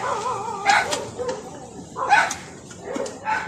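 A few dogs bark and yip in short, separated bursts at moderate distance, with whimpering tones between the barks.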